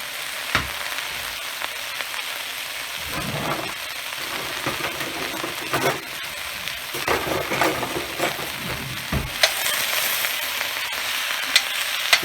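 Sliced mushrooms fry in butter and oil in a pan for a chicken cacciatore, giving a steady close sizzle broken by occasional stirring scrapes and clacks.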